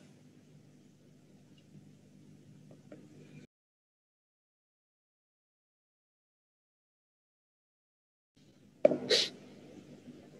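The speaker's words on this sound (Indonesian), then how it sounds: "maaf ya, lagi flu, bersin-bersin mulu" A single sudden sneeze from someone with the flu, loud and close, bursting out after a stretch of quiet room noise and dead silence, followed by a little breathing.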